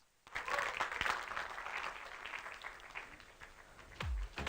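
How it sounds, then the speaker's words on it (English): Convocation audience applauding at an event management and media school ceremony in Bangalore, a burst of clapping starting abruptly and continuing at a fairly even level, with a few thuds near the end. "Can I have a round of applause for this, please?"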